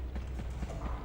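A centaur's hooves clip-clop in a quick, regular rhythm in the PS1 game MediEvil, loud and close over a low game hum.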